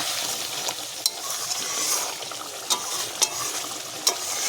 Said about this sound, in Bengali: এখানে দিয়ে দেবো আমি 4-5টা কাঁচা লঙ্কা। আবারও একটু নাড়াচাড়া করে নেব।